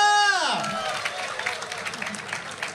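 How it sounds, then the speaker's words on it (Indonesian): Audience applause and clapping at the Independence Day ceremony in Indonesia, a broad crowd sound that swells after a loud announcer's voice and then holds steady and fairly loud to the end. "berikan tepuk tangan meriah"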